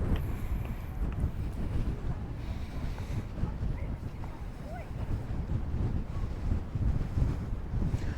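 Strong wind buffeting the microphone at Kasai Rinkai Park by the sea, a loud continuous low rumble and roar with gusty swells throughout, covering everything else.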